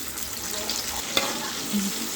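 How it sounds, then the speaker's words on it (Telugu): Mustard seeds, onion, green chillies and tomatoes frying in a pan, a continuous close hiss and crackle with one brief sharp tap of a utensil partway through. "బాగా ఫ్రై అయిపోయినాయండి. టమోటా, ఆనియన్, పచ్చిమిర్చి"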